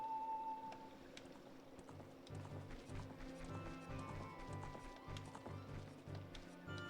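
Horse hooves clip-clop at a steady gallop in the Ocarina of Time video game. The quick, rhythmic beats repeat under game music and effects, moderately loud throughout.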